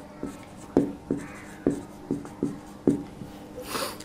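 A physics formula being written by hand with chalk or pen during a lesson, giving a series of short, distinct scratchy strokes at an uneven rhythm, close and clear with no talking over them.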